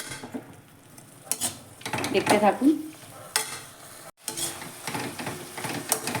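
Food for a vegetarian banana-flower dish sizzles and fries in a pan while a utensil stirs and scrapes through it, with a brief spoken remark partway through.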